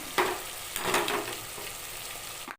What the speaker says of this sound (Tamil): இஞ்சி பூண்டு சேர்த்து நல்லா வதக்கிக்கலாம்